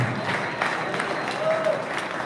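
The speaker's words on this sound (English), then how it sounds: "Come on, give him a round of applause." A crowd at a KBF National Championship awards ceremony gives a moderate round of applause for a placing angler, clapping steady and mid-distance with a voice faintly over it.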